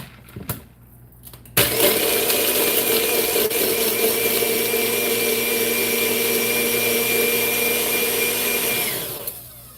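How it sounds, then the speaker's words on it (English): A Magic Bullet blender motor whirs loudly and steadily for several seconds after a brief pause, then winds down near the end, with no talking over it. "So technically this is the Magic Bullet"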